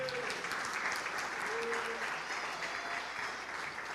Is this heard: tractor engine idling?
no